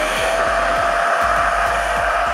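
A Proscenic P11 cordless stick vacuum cleaner runs close up with a loud, steady whirring motor roar and broad airy hiss, continuous throughout with no talking.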